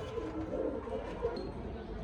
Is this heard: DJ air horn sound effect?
no